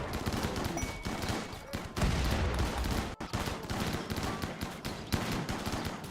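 Dense gunfire from assault rifles and charge rifles in the colony game RimWorld: rapid overlapping shots crackle continuously in a loud fusillade, with brief gaps and a sharp thud partway through.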